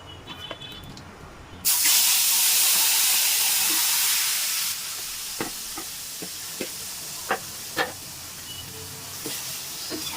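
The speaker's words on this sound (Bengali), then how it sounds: "মাছ ভাজার তেলের মধ্যে এই যে সবজিগুলো মাখিয়ে রাখছিলাম, সেই সবজিগুলো আমি এখন দিয়ে দেবো।" A loud burst of hissing sizzle as spice-coated vegetables hit oil left from frying fish, settling into steady frying with scattered clicks and pops.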